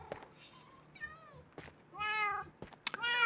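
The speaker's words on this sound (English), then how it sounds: "Oh, I hear the cats." Cats meowing in Minecraft, several short pixel-game meows with bright harmonic tones, spaced apart over faint background ambience, one rising yowl near the end.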